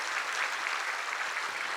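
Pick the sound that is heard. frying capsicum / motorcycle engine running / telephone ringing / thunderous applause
thunderous applause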